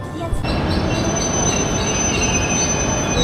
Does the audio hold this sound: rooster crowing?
no